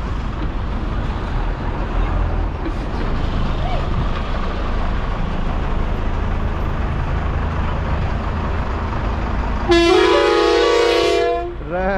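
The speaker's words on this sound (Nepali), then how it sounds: "राम राम के साह्रो हर्न बजाइदिएको" A vehicle horn blasts loudly and steadily for about two seconds on a mountain road near the Rupse waterfall in Mustang, rising above the constant rumble of the moving bus.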